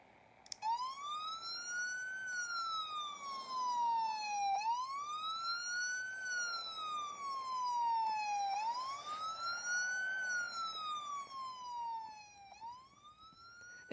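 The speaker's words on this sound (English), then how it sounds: "And I'll let you guys hear the sirens for a little while." A police car siren from the video game Car Crushers 2 wails in slow rising and falling sweeps, loud and clear, repeating about four times with no one talking over it.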